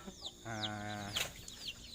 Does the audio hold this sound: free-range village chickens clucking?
yes